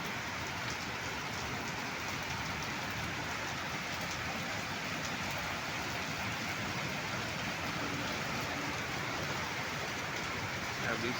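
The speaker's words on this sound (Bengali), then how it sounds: "আর বৃষ্টি এখনো পড়ে যাচ্ছে।" Steady rain pouring down during a storm, with water streaming along the road, a dense unbroken hiss of drops on surfaces, even in level and moderately loud.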